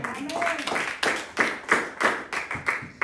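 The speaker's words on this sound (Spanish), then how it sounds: "¿Me están dando un fuerte aplauso, Señor?" A church congregation claps in a steady, rhythmic beat during a sermon, the hand claps close and fairly loud, with a voice sounding briefly among them.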